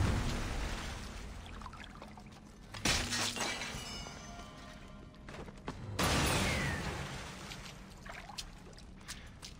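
Loud flowing water in Assassin's Creed Odyssey, a constant rushing stream that swells into two stronger bursts of splashing partway through, heard alone with no voices.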